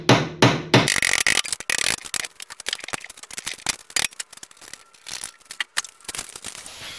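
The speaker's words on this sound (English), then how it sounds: "Little alignment punch." An alignment punch is tapped into the rear suspension of a 2011-2014 Hyundai Sonata, giving irregular sharp metallic knocks and clatter mixed with shuffling handling noise, close and fairly loud with no voices.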